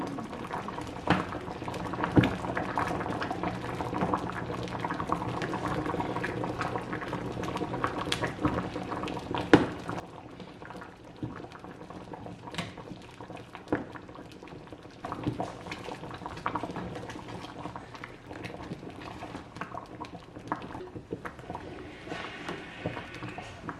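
Purple yam boiling in a covered pot on the stove, giving a steady, close bubbling and rumbling that carries on throughout, a little busier in the first half.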